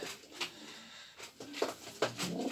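Polish show-standard postal pigeons coo nearby, several soft, throaty calls spaced irregularly over quiet surroundings.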